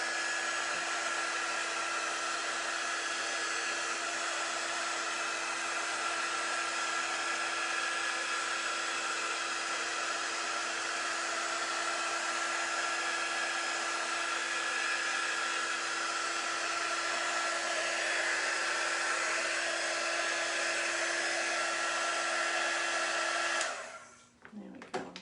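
A hair dryer blows steadily on wet paint covering autumn leaf home decor, a constant close whirring hum that runs for about 24 seconds and then switches off abruptly near the end.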